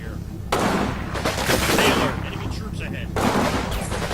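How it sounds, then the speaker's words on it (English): Sustained gunfire and explosive bursts from a Combat Mission Final Blitzkrieg wartime battle, loud and continuous across the clip with heavier surges near the start and end, under a low rumbling background. "There's a lot of fire coming from over there."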